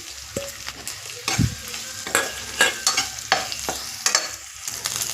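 Onions sizzle in a pan with green chilies, curry leaves and mint, a moderate steady frying hiss broken by repeated scraping strokes of a spoon in an uneven rhythm.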